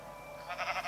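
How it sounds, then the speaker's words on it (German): A brief, wavering bleat from a Minecraft sheep rises over a soft game background, sounding fairly close and fading quickly. "Schaf, was machst du da?"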